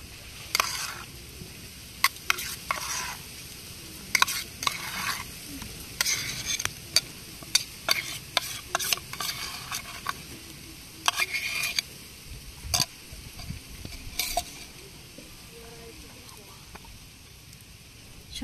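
Spice paste goes into a hot pan of meat and fries with a soft continuous sizzle, punctuated by irregular scraping and clacking taps of a spoon stirring against the pan.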